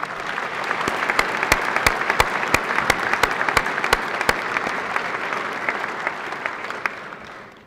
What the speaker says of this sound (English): A round of applause to all of you again.